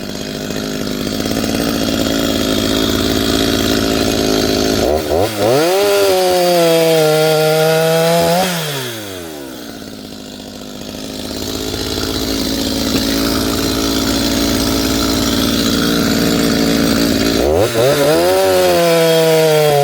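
A chainsaw cuts oak logs into firewood, its engine loud and close, revving up sharply into cuts, dropping back to a rough idle and surging again.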